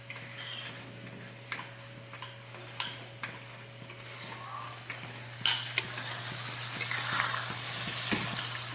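Chicken with spices sautéing in a pan for palang chicken, with a steady soft sizzle under repeated light ticks and clinks of a spoon stirring against the pan and a low background hum.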